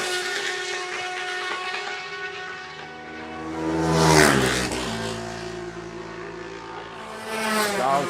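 Racing motorcycles on the Cookstown 100 road course scream past one after another, each swelling loud as it nears, its pitch dropping as it passes, then fading before the next arrives.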